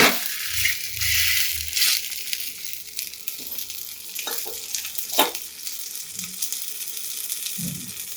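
A freshly flipped semolina and pigeon-pea pancake sizzles steadily and loudly in a hot pan, with occasional soft scraping and shifting sounds over the constant frying hiss.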